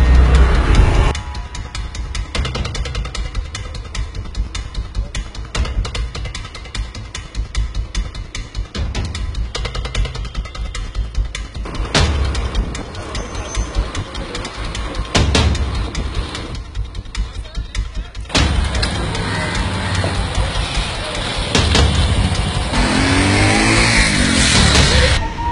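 A vehicle engine revving as it drives, a continuous mid-pitched roar that rises and falls across the stretch, with voices talking over it at times.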